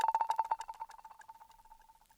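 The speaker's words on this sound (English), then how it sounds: "I just chopped off something from a drum loop and then paired it with that little roll" A drum roll paired with a chopped slice of a drum loop for a 2000s R&B beat made in FL Studio: a quick run of rapid, tonal hits that starts loud and gradually decays, fading away over about two seconds.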